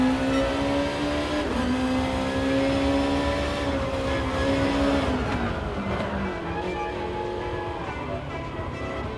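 Honda NSX GT race car engine in Gran Turismo Sport, a loud steady sustained drone under high throttle that shifts in pitch partway through and keeps running throughout.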